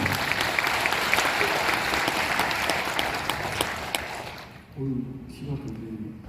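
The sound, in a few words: audience applause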